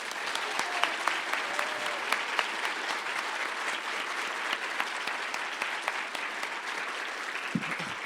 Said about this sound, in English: Will you clap with me?